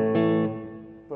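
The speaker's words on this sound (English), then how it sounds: "And now I just put the reverb on." Electric guitar played through a reverb effect pedal: a sustained strummed chord rings out and decays with a lingering tail, then a fresh chord is struck at the end.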